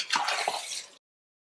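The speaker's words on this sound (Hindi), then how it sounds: "इसको अच्छी तरह पहले मिक्स करें बीच में और साथ ही में मैं इसमें ऐड करूँगी पानी।" A cup of water is poured into tomato keema cooking in a pot, giving a brief, close splash and slosh of about a second that then cuts off abruptly.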